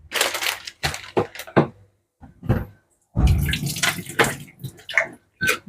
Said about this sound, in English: So I'm washing the peanut.